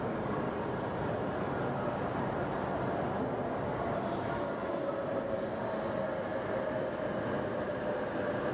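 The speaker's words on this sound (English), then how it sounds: "E5 Series Shinkansen Hayabusa" E5 Series Shinkansen Hayabusa high-speed train from Japan, a steady loud broadband rush and rumble of a train in motion that holds even throughout, with a faint tonal whine rising in the middle.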